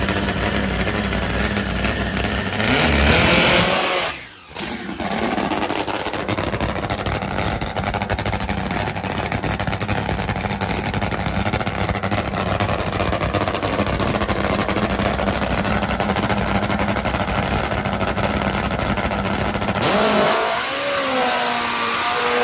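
A Top Fuel drag racing motorcycle engine roars at full throttle for a long, sustained qualifying pass at the Virginia Nationals, loud and close, with a brief cut near the start.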